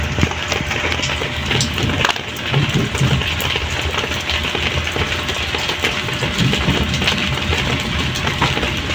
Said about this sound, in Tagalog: ay umulan na nga po dito